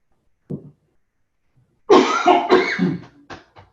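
An adult gives a short dry cough, then after a pause a run of harsher dry coughs and throat clearing, close to the microphone.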